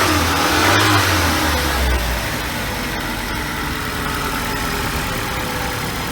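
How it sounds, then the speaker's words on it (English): 2010 Ford Escape SUV engine given light revs to about 3,000 rpm, a steady close engine drone with a brief low surge early on that settles into a constant hum. "You want to give it a couple of revs, the engine?"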